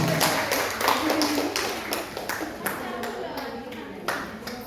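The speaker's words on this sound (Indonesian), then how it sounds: "Boleh dikasih tepuk tangan Ibu Bapak." Applause from an audience of parents at a school dissemination session in Indonesia, a steady patter of many hands clapping for a few seconds, moderately loud and slightly fading toward the end.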